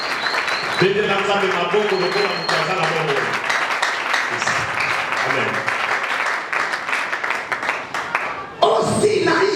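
A church congregation at a Sunday service claps and cheers loudly and steadily throughout, with a preacher's voice carrying over the crowd and a sharp burst of noise near the end.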